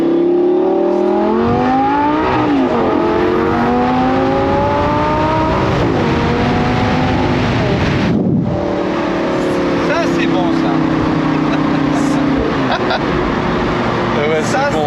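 Audi R8 V10 on a road drive, engine pulling through rising revs with gear changes and a brief lift near the middle, loud inside the cabin while people talk over it.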